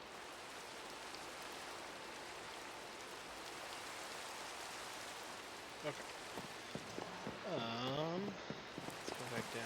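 Steady rain hisses across the ground in Minecraft, a soft continuous wash that runs throughout, while a voice speaks briefly near the end.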